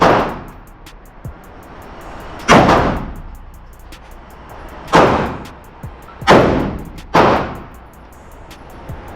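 AR-15 rifle fired at a gun range: five sharp, loud shots, spaced a few seconds apart at first and then closer together, each one ringing out briefly before fading, with no talking in between.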